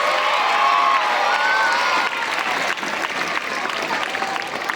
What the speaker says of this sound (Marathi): यांच्यासाठी जरा जोरात टाळ्या देत बसतात.